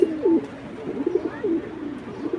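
Silver racer pigeons coo in a loft, several low throaty rolling calls repeating in quick succession, close and clear with no talking.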